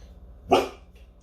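A single sharp dog bark indoors, loud and close, thought to be at deer outside, with near silence before and after it.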